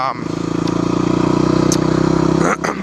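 A Honda Africa Twin motorcycle rides through corners on local roads, its engine holding a steady, close, throbbing drone for a couple of seconds before easing off abruptly near the end.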